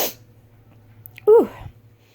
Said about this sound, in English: I'm sorry, I gotta sneeze.